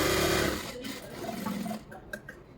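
Sewing machine stitching the lining of a blouse, its motor whirring loudly for about half a second, then slowing and fading into a few soft mechanical clicks, close up.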